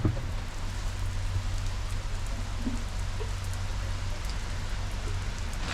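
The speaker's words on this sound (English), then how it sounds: "Absolutely lashing down with rain" Steady, heavy rain pours down on the Lake District fells, heard from a bus stop shelter, a dense wash of hiss with a low rumble underneath and no voices.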